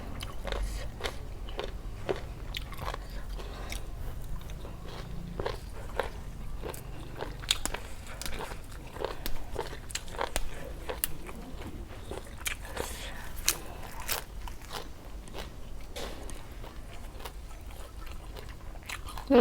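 Someone crunches through a spicy Thai apple snail salad with roasted rice and young kadon leaves, with a long series of close, sharp bites and chewing crunches spaced irregularly over a faint background.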